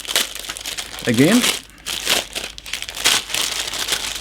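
Resealable plastic bag holding 1/32 Dewoitine D.500 model kit parts crinkles and rustles steadily throughout, close up, with a person speaking briefly partway through.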